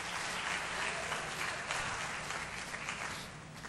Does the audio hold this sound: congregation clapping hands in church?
yes